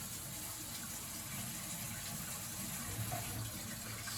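A tap runs steadily into a sink as hands are washed, a continuous soft rushing of water with faint splashing, heard at a moderate distance throughout.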